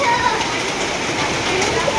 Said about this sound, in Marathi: अवकाळी पाऊस आहे हा